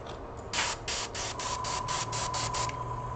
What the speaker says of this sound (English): All right, airbrush feels good.